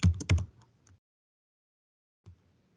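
Quick bursts of computer keyboard typing while entering a station name into traffic count management software, a few close keystroke clusters at the start, then silence and one brief faint tap near the end.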